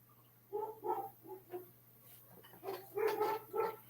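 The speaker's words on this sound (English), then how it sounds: "My dogs are barking." Several dogs bark in a home, with a run of moderate, slightly distant barks and yelps. Quieter ones come first, then a louder cluster, all over a steady low hum.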